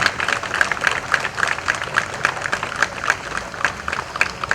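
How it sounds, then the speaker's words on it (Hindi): An audience applauds at a civic event for a sports complex with a skating rink, boxing and basketball facilities in Borivali, clapping in a steady, rhythmic unison beat that carries through the whole stretch with no talk. "जोरदार तालियों से सुनील राणे जी का आप अभिनंदन करिए"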